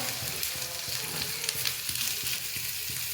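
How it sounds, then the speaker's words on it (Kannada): Bitter gourd roasting in oil in a pan for chutney powder gives a steady, close sizzle, with soft, regular knocks and scrapes as the pieces are turned. "ಚೆನ್ನಾಗಿ ರೋಸ್ಟ್ ಆಗಲಿ"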